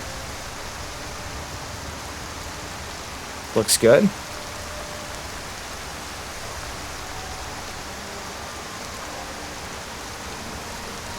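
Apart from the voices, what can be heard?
rain in Skyrim video game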